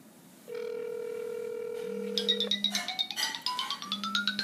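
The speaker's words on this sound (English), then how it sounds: "So it's calling there. I only set up one phone to ring now." A phone rings for an incoming Google Voice call on speaker: a steady tone first, then a repeating chirpy electronic ringtone with rising pitch sweeps, fairly close and clear with no talking.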